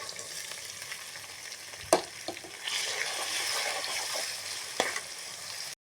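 Boiled carrots and beans are tipped into a pan of sautéed onion, tomato and capsicum while making egg fried rice. The food sizzles steadily up close, with a few sharp spoon-on-pan clinks as it is stirred.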